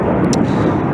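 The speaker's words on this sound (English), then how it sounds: "Hopefully you can actually hear me over these aeroplanes flying over" A steady broadband roar of an airplane passing overhead, loud and continuous.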